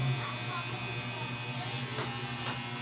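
An electric hair clipper buzzes steadily during a haircut, a constant close hum with slight changes as it moves through hair, and faint voices in the background.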